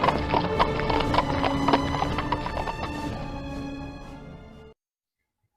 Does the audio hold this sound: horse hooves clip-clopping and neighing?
yes